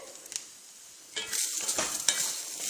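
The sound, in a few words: dry roasting grated coconut in a pan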